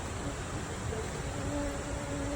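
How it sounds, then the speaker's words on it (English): Bees buzzing in a tropical jungle, a dense continuous hum and hiss of insects with a faint tonal drone rising late, steady and moderately loud, without clear voices. "The bees are coming now."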